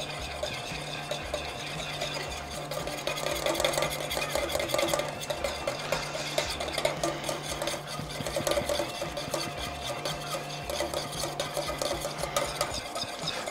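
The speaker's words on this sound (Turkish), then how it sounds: "Biraz daha çırpalım." Steady whisking of a thick sauce with a whisk in a pan, a continuous scraping, rhythmic stir at moderate volume with a low mechanical hum underneath, in a restaurant kitchen.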